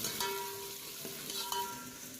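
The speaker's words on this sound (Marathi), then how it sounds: "इकडे आपण शाकाहारी पांढरा रस्सा फोडणी मारायला सुरुवात केली आहे" Oil sizzling steadily as a tempering is fried for a vegetarian white rassa curry at a Kolhapur dhaba, with a few clinks of stirring and no talk.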